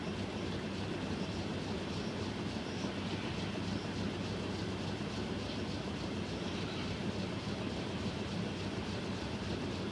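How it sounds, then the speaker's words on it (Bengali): A train crosses the Hardinge Bridge over the Padma River at Paksey, giving a continuous, even, heavy rumble with faint rhythmic clatter. It sounds fairly close, steady throughout, with no voices. "দেখুন গাইজ, এখন হার্ডিঞ্জ ব্রিজের উপর দিয়ে ট্রেন চলে আসছে।"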